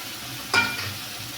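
Chopped ingredients drop into hot oil with frying cumin for a Bengali rohu mustard curry, setting off one sudden burst of sizzling that quickly settles into a softer, steady fry.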